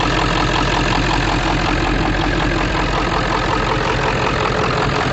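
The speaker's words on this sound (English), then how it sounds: "So we're gonna go ahead and let it idle." Ford 7.3 Powerstroke diesel engine idling close up, a loud, steady low rumble with a rhythmic clattering knock running unbroken throughout.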